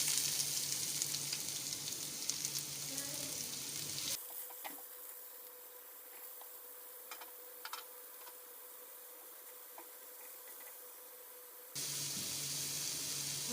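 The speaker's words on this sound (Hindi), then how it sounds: "प्याज डाल के फ्राई करेंगे।" Onions frying in a small amount of oil for aloo gobi, a soft hiss and sizzle that drops away for several seconds before returning, with a few faint clicks and stirs, quiet and close.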